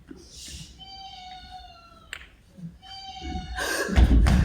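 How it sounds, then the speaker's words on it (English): A cat meows twice, clear and fairly close, with a short rustle between and a louder clatter at the end. "That was the cat."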